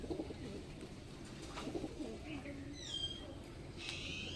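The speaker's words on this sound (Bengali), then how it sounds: "কোয়েম্বাটুরের পায়রা।" A Coimbatore pigeon held in a loft coos softly and low over faint background rustle, with a few higher chirps after the midpoint.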